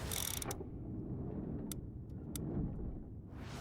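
A car engine in the video game Mafia: Definitive Edition drones steadily, low and rumbling, with brief sharp bursts of higher noise at the start and a few clicks scattered through.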